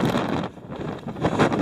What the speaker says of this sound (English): Still really windy, really windy.